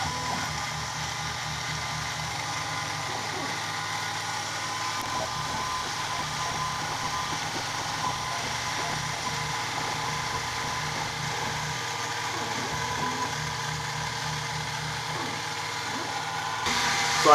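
A CNC machine runs a second clean-up pass while engraving a custom V6 2GR-FE emblem for an SW20 MR2, giving a steady, loud mechanical whir and hum that stays constant throughout, with faint cutting chatter underneath.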